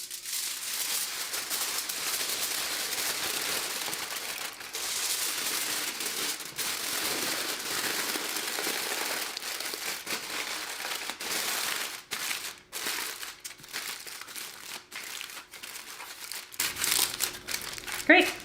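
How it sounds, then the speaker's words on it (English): Tin foil crinkling and crumpling steadily as it is wrapped around a springform pan holding lasagna before it goes into an Instant Pot, loud and close and continuous, with the rustling breaking into choppier bursts toward the end. "now we're going to wrap it in tin foil before we put it into the Instant Pot"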